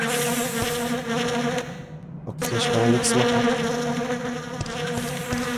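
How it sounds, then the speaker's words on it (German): Bees swarm with a dense, loud, continuous buzz in Resident Evil: Dead Aim, briefly dropping away before surging back, while someone speaks German over it. "Oh, eklig ist mit den Bienen hier."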